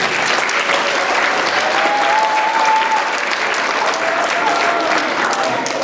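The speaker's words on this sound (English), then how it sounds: "So let's give them a big round of applause" Loud, dense audience applause at the grand opening of a junior ATB school, sustained clapping from a crowd filling the room without a break, with only faint voices beneath.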